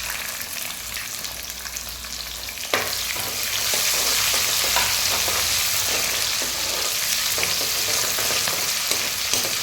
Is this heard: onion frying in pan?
yes